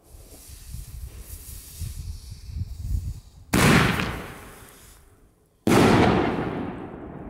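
A Diamond Red Star Bombenrohr 50mm firework shell with a red peony effect: a crackling, hissing fuse burns for a few seconds, then two loud, sharp bangs follow about two seconds apart, each decaying into a lingering outdoor echo.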